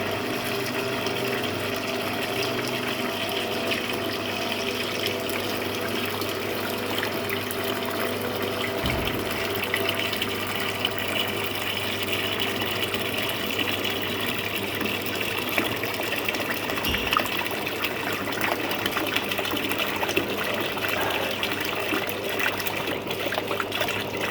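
A TurboQuip cooking oil filtration unit pumping oil from a fryer filter pan, a loud continuous mechanical hum with steady gushing, trickling liquid flow throughout.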